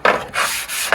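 Sandpaper rubbed against a Nintendo 64 plastic shell, close and loud, in quick back-and-forth rasping strokes, about three in one second, with no talk.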